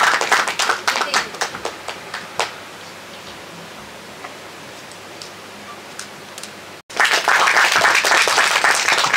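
Clapping at a Marathi song launch event: a burst of applause fades into a quieter stretch of scattered claps, then swells again loudly near the end, full and close.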